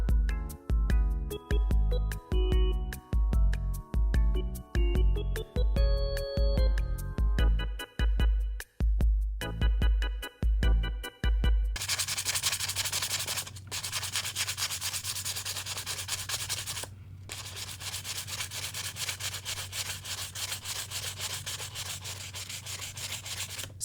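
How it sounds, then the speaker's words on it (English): Sandpaper scrubs at an angle around the plastic edges of a homemade Nintendo Wii handheld shell, a continuous close rasping that runs through the second half after an opening stretch of rhythmic music. "just scrub it up with sandpaper"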